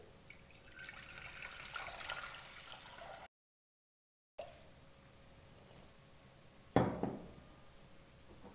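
Water is poured into a pressure cooker on a lit stove while preparing mutton and drumstick curry, a steady running trickle broken by a brief pause and then a louder splash near the end.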